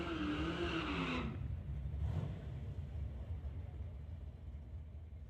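A Ford Mustang roars down the strip on a drag racing run, a loud rising engine note that cuts off abruptly, leaving a low rumbling drone and faint background noise.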